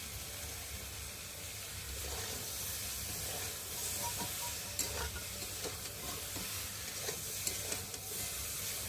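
Grated ginger sautéed in a pan with cumin for a vegetarian vegetable curry, giving a steady sizzle and hiss with scraping stir strokes, close and continuous throughout.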